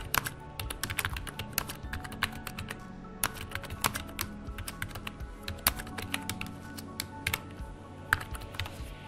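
Someone types on a computer keyboard to enter Bengali text with Avro, a steady, close run of sharp key clicks with irregular rhythm and a few louder taps throughout.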